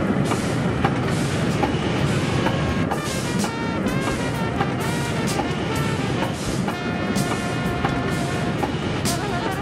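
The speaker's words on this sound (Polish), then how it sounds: "To piękna lokomotywa, czyż nie prawda?" A steam locomotive running at Wolsztyn, with continuous rumbling rail noise and rhythmic clattering of wheels and cars, loud and close throughout with no talk.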